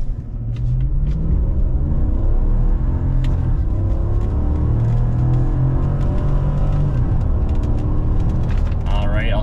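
A 2017 Chevy Silverado LTZ with the 6.2-liter Vortec V8 makes a loud, steady engine roar that climbs in pitch as it accelerates from a stop to 60 mph, with the note rising through the gears.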